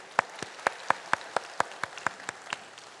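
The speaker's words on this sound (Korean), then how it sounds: "우리 하나님께 영광의 박수로 찬양 드리겠습니다." A church congregation at a Sunday morning service claps in unison, about a dozen sharp, evenly spaced claps in steady rhythm, fairly faint against a quiet room.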